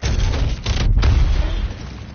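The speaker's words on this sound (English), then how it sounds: "let's use this gravity cannon" A gravity cannon fires in Apex Legends: a deep, booming blast with a heavy low rumble, followed by a second punchy burst and a sustained roar that slowly fades.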